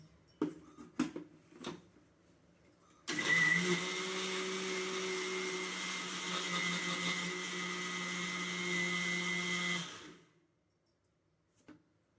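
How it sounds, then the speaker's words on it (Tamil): After a few clicks and taps, a mixer grinder grinding cardamom whirs loudly for about seven seconds in one sustained burst, then winds down to quiet. "மிக்சியில் போட்டு பல்ஸ் மூடில் விட்டுக்கலான்னு"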